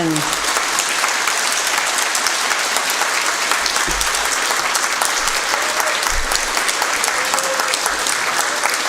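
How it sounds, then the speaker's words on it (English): Sustained applause from a large audience, a dense, even patter of clapping that continues without a break. "let us all give them a round of applause in celebration"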